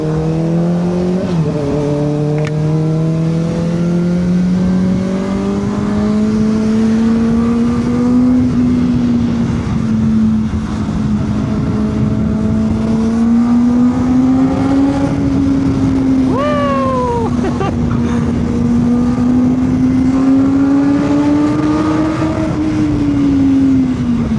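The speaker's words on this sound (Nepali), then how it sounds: "अब दामी कराउँछ हाम्रो बाइक दामी" Motorbike engine droning steadily while riding, a loud close drone whose pitch rises and falls with throttle changes, over constant wind rush and brief higher tones.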